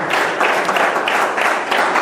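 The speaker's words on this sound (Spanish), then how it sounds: "Démosle un aplauso al Señor" A church congregation applauds during a Spanish-language sermon, dense steady clapping from many hands filling the room at close range, with no voices over it.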